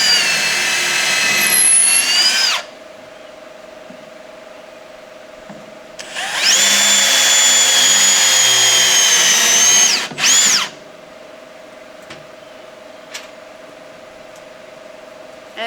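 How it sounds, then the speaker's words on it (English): A power drill pre-drills holes in wooden garden trellis boards, with two loud bursts of high whining motor separated by quieter stretches of low steady background hum. "then I pre-drill a couple holes"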